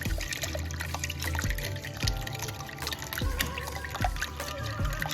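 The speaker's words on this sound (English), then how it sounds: "I'm going to go ahead and beat or stir it up." Eggs beaten with a whisk in a bowl while prepping a trucker's meal, a busy run of quick wet clinks and sloshing strokes, close and steady, with some irregular louder knocks along the way.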